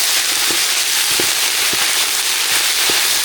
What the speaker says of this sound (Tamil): வரமிளகா நல்லா பொறிஞ்சிருச்சு கருவேப்பிலை சேர்த்துக்கலாம்